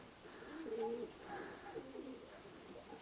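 Pigeons coo softly in a couple of low, rolling phrases at a backyard loft, fairly close but quiet against faint background noise.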